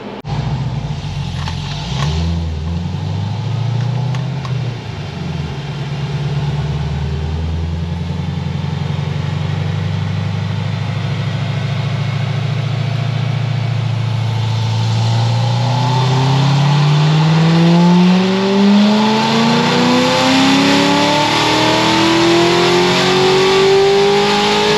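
A supercharged Chevrolet Corvette C6 Z06 with an Edelbrock supercharger runs on a dyno, starting with a loud, rough idle and then climbing in one long, rising rev with a growing whine, sustained and close.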